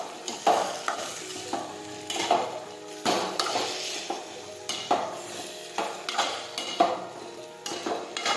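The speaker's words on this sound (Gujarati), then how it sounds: "હવે આપણે સાતળી લઈશું." Okra with chopped tomatoes sautés in a pan, a steady sizzle broken by repeated rhythmic scrapes and clinks of a spoon stirring against the metal, close and clear with no voices.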